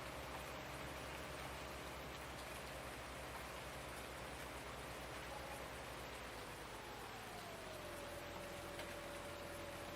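Steady rain falls in the Farming Simulator 19 farming game, a dense constant hiss of drops over a low engine hum, loud and unbroken throughout.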